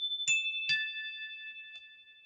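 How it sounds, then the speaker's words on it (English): Three electronic chime tones struck one after another at different pitches, each ringing on with a clean sustained tone, followed by a faint fourth tap, close and clear in an otherwise silent room. "So here are each of the 3 chimes at their respective frequencies."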